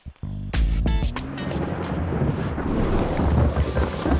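Heavy rain pours steadily in a forest during a storm, with sharp cracks of thunder near the start and a continuous loud rushing wash of rainfall and wind.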